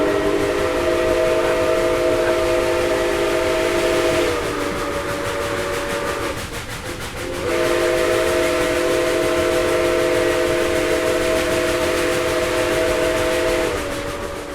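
A loud, steady steam whistle on the Nickel Plate 765 steam locomotive blows close by, drops off briefly, then sounds again over the rumble of the running locomotive, heard from the cab.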